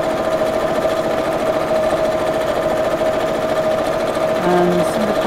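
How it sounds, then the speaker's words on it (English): A sewing machine stitches down the side of a fabric strap, its needle due for changing and knocking slightly, running as a continuous close, loud mechanical whir with a steady hum. "So I'm going to sew down the side of the strap, just to hold that in place"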